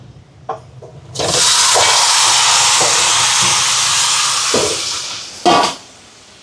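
A covered pot of coconut, turmeric and salt steams under its lid: after a few soft knocks, a loud, steady hiss rises abruptly, holds for about four seconds, then fades, followed by a brief extra burst.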